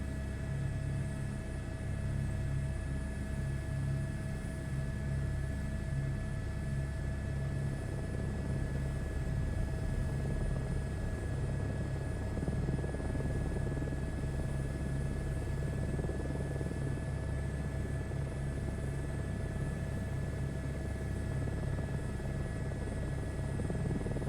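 A helicopter in Microsoft Flight Simulator 2024 drones with a continuous, steady rotor and engine rumble and a faint whine, unbroken for the whole stretch at moderate level, with no talking.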